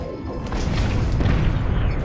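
A torpedo strikes a starship in the Star Trek Bridge Crew video game, giving a loud, sustained rumbling boom and crash that fills about two seconds with no talking over it.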